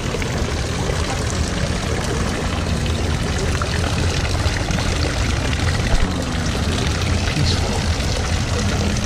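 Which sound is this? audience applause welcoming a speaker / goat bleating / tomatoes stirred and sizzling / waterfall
waterfall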